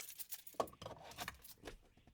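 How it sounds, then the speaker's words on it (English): Car keys jangle and clink as they swing on a holder mounted in a truck cab, a cluster of metallic jingles close by with one sharper clack near the middle. "The leftover keys, they just hang, so they're not going to scratch nothing up."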